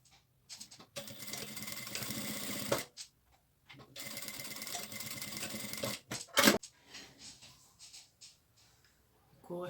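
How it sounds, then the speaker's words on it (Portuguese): A sewing machine runs a 1 centimetre seam on fabric scraps, buzzing steadily in two long bursts with brief pauses and a few sharp clicks between them, close and clear, with no talking. "E eu faço a costura aqui de 1 centímetro."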